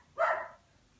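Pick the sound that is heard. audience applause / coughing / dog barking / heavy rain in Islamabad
dog barking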